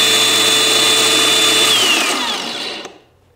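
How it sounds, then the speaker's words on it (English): A DEWALT 20V MAX XR 4-1/2-inch cordless angle grinder with kickback brake is switched off while spinning its disc; the loud high whine drops sharply in pitch as the brake stops it in about two seconds, leaving quiet. "when you turn off the grinder, it has up to 2 seconds to stop your disc"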